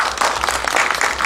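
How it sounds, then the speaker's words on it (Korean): A short, loud burst of dense audience applause at a safety culture forum, welcoming a speaker to the stage. "박수로 맞이해 주십시오"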